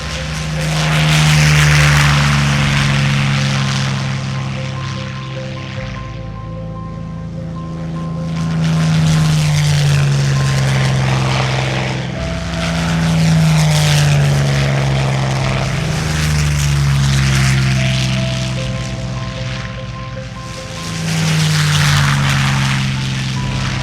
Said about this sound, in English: Nothing speaks to people like, say, the sound of a Spitfire or multiple Spitfires and the other aircraft with it.